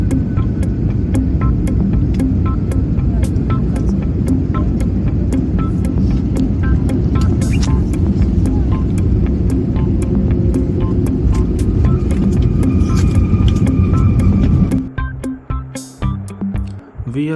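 An airliner lands at Changi International Airport in Singapore, heard from inside the cabin as a loud continuous engine roar and throbbing hum that lasts most of the stretch before dropping away into quieter rumbling.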